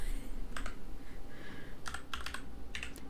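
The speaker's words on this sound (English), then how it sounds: "Typing with one hand" Rapid bursts of keyboard clicks from one-handed typing on a computer keyboard, arriving in short irregular clusters over a steady low room hum, close and fairly quiet.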